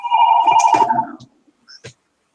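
A cell phone ringtone chirping loudly and close for about a second, then cutting off, followed by a couple of faint clicks and near silence.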